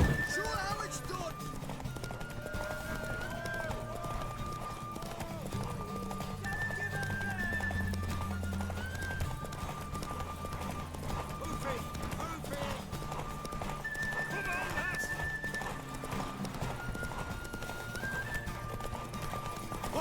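Rhythmic hoofbeats of a galloping horse in The Witcher 3, with a neigh and bursts of game music and effects, while voices talk over it.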